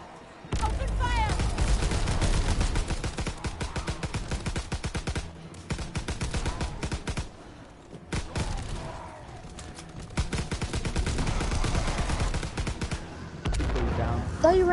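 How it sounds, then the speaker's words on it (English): Dense gunfire from the World War II shooter game Call of Duty WW2, with rapid bursts of automatic rifle and machine gun fire that run nearly nonstop and break off in a few brief pauses, mixed with talk from players. "Open fire!"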